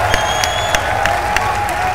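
Crowd at the EVO 2015 Ultra Street Fighter IV top 8 match between Gamerbee and Infiltration, cheering and clapping steadily with a few sharp claps standing out, dense and loud throughout.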